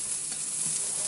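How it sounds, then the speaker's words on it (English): Butter bubbling and sizzling on a scallop served in its shell at a restaurant in Japan, a steady close, broadband fizz with faint popping throughout and no talk. "Scallop with some butter on there, and it is boiling."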